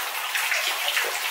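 Snowmelt water flowing in a mountain creek on the Peru Creek Trail in Colorado, a close, steady bright splashing rush with no voices.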